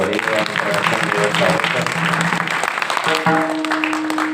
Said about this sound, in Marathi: जोरात टाळी वाजून